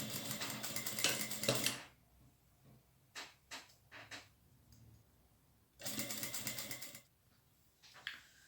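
A sewing machine stitches a canoe-shaped fabric bag in two steady, loud runs of rapid whirring, separated by a pause filled with a few clicks and handling knocks nearby.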